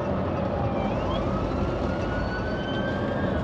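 A police car siren wails faintly in the distance as it approaches through traffic in the rain, its rising and falling tone carried over the heavy, constant rumble of a truck driving.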